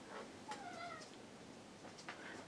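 A cat meows once or twice at moderate distance, with a short rising call and a later fainter one over quiet room hiss, no talking.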